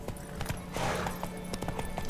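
Horse hooves clopping in The Witcher 3, a steady run of soft hoofbeats over continuous outdoor ambience and wind, moderately close with no talk.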